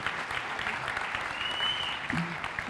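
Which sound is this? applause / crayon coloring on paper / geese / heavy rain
applause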